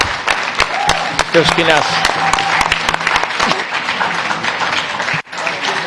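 Applause from the floor of a European Parliament hearing with Commission Vice-President Margaritis Schinas, a dense burst of clapping in the hall that runs under a speaking voice and fades toward the end.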